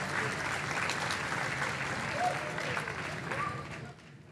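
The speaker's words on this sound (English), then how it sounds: "And give them a round of applause." Spectators at a high school volleyball match between South Tama and Benton give the officials a round of applause, a steady crowd clatter with a few whistle-like tones and faint voices, fading out at the end.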